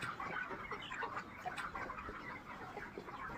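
A flock of broiler chickens on a poultry farm keeps up soft, overlapping clucking and chatter, steady and low in level with no voices.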